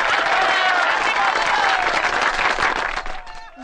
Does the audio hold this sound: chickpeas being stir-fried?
no